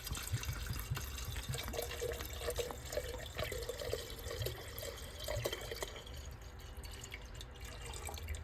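Everclear poured steadily into a 750 ml glass bottle, making a continuous close trickling and gurgling of liquid that runs without a break and shifts slightly in tone near the end.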